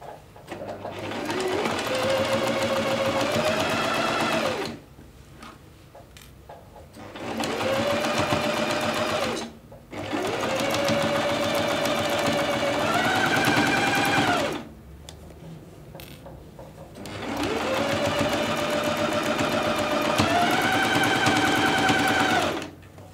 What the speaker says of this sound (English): I'm just going to sew a wavy line all the way around the top and the bottom of the shearing elastic